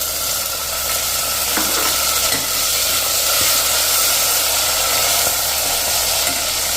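Frozen green peas cooking in hot oil in a pan, a loud continuous sizzle and hiss, close and steady throughout, with a few light stirring clinks.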